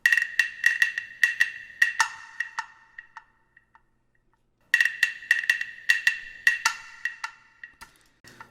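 A wooden percussion instrument plays rapid clicking strokes that mimic a cricket's chirp, bright and dry, in two bursts separated by a brief pause, close and alone in an African-style beat.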